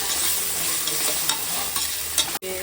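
Onions frying with ginger-garlic paste in a pan, a steady close sizzle with stirring scrapes throughout and no talking.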